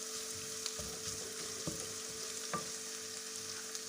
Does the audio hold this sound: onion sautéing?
yes